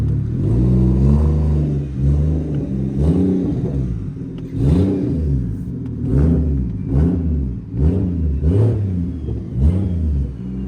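A loud, deep straight-piped single-turbo BMW 335i engine revs repeatedly in rhythmic bursts, each rev swelling and dropping, with a rough, rumbling low exhaust tone throughout.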